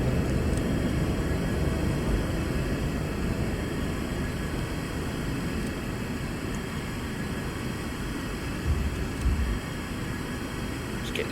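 SEPECAT Jaguar A jet engine in reheat in a flight simulator, a loud continuous roar with a dense rumble that holds steady throughout.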